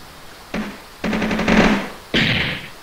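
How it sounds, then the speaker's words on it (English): Several bursts of rapid video game gunfire in quick succession, loud and close, with short pauses between volleys and no talking. "That sounded like gunfire"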